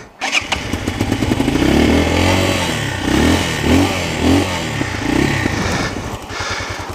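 A CSC TT250 trail motorcycle engine starts and revs on a steep dirt trail, loud and close, with repeated throttle blips rising and falling over a steady idle.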